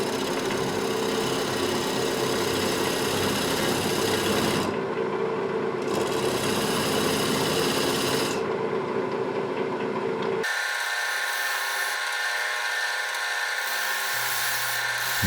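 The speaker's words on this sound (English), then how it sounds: "And you can see these beautiful shavings coming off of this 1/4-inch scraper." Continuous rasping hiss of a quarter-inch scraper cutting shavings from a green apple wood bowl on a spinning wood lathe, loud and steady with the motor's drone underneath, the tone shifting partway through.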